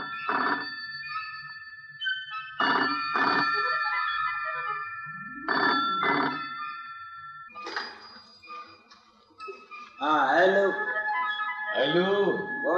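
A telephone rings in bursts of repeated electronic chimes at a household, interleaved with spoken voices and ending in rising and falling warbles.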